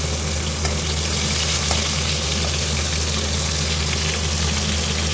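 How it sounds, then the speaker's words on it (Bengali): Spice paste for a fish curry frying hard in a pan, a steady dense sizzle and crackle running unbroken and fairly loud, with a low hum underneath. "এদিকে দেখো আমি মাছের মশলাটা কষিয়ে নিচ্ছি"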